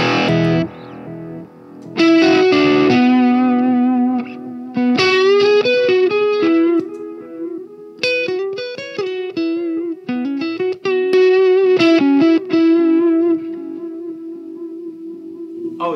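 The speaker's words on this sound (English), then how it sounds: "Can you exaggerate the analog delay and show me what that sounds like?" Electric guitar through an analog delay pedal set to an exaggerated setting, distorted notes and chords trailing into dark repeating echoes that smear together, loud and close with no talking.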